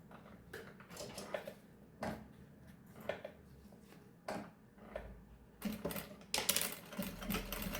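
A sewing machine stitches a strap onto a fabric baby bag, running in short bursts with pauses between, then a longer, louder run near the end; close and without talk.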